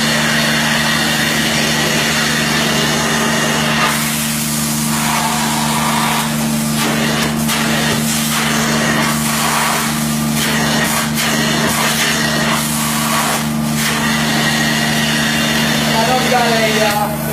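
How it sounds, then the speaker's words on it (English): An extractor cleans the fringe of an oriental rug with a steady, loud whine and hum, and a rougher suction rasp comes and goes as it passes over the fringe while a person talks throughout. "we're ready to extract the fringe and clean it up, so let's extract it"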